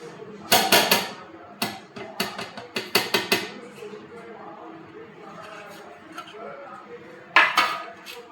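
Knife and plate clatter as kothimbir vadi, a Maharashtrian coriander fritter, is cut into pieces on a plate: a few sharp clinks and taps, some in quick clusters, close and fairly loud, with quieter gaps between.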